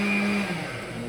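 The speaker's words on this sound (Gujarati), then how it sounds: "મિક્સરમાં બધું વાળે છે." A mixer grinder blends tomatoes and onions for pav bhaji. Its motor gives a steady, close whirring whine that dips slightly partway through.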